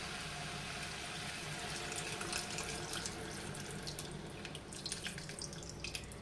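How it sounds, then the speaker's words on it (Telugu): Tamarind juice is poured into a simmering taro root curry, making a steady close trickle and splash over several seconds, with no voices. "సో ఇప్పుడైతే నేను చింతపండు రసం యాడ్ చేస్తాను."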